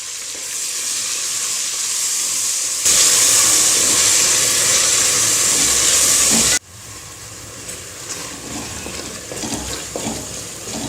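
Steady loud sizzling of tomatoes sautéing in a hot pan, briefly intensifying into a harsher hiss before settling back to a gentler crackle.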